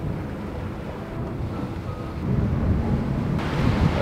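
Wind buffets the microphone aboard an IMOCA racing sailboat at sea, a steady low roar mixed with rushing water that swells louder in the last half, with no speech.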